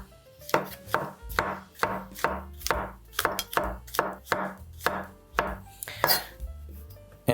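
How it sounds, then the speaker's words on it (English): A knife taps rhythmically on a cutting board slicing mushrooms, about a dozen crisp, evenly spaced strokes, close and clear with no talking. "So now we're gonna chop up some mushrooms."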